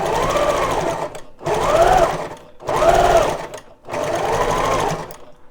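Sewing machine stitching fabric for a Christmas craft, heard in four close bursts of rapid mechanical whirring separated by short pauses, with no talk over it.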